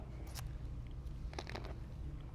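Soft, close crunching bites into something crisp, a few quick crackly bursts over a low background hum, with no talking.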